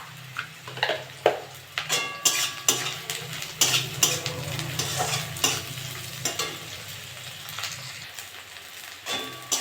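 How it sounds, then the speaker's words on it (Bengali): Onions fry with a little salt in a pan for a prawn dish, giving a steady close sizzle. Repeated sharp scrapes and clicks of a stirring utensil against the metal cut through it, with no voices. "পেঁয়াজটা একটু ভেজে নেব"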